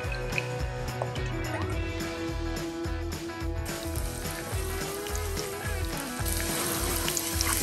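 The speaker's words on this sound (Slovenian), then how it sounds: "Pražimo le toliko, da česen zadiši." Garlic sizzles and fries in plenty of olive oil in a pan, a steady close crackle that goes on throughout, with a faint voice underneath.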